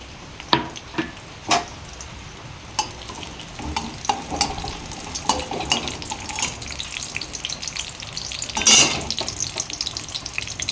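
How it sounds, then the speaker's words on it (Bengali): Whole garam masala, bay leaf and dried red chili go into hot vegetable-frying oil, giving a soft continuous sizzle broken by sharp spoon clinks and scrapes against the pan, with a louder burst of crackle near the end. "সবজি ভাজার তেলে গোটা গরম মশলা তেজপাতা শুকনো লঙ্কা দিয়ে দেব"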